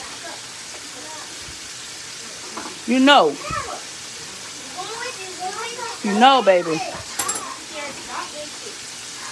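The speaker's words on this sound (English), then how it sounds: "When this chicken is frying like this." Steady crackling sizzle of chicken frying in hot oil, running under a voice talking close by.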